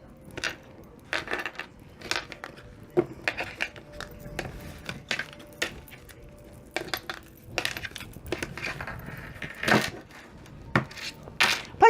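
Tarot-style deck of cards cut and shuffled during a reading, giving a series of sharp, close papery slaps and riffling clicks in irregular bursts over a quiet room, with no talk.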